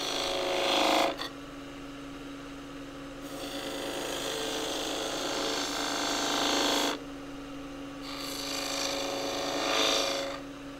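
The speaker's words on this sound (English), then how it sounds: "you can also to some extent do grooves" A half-inch spindle gouge cuts grooves in wood on a lathe, giving sustained rasping, scraping passes that start and stop several times, loud and close, with no talking.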